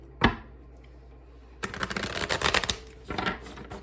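Luna Soul tarot cards being shuffled: one sharp tap, a pause, then a dense burst of riffling card flutter, close and fairly quiet, ending in a softer second shuffle.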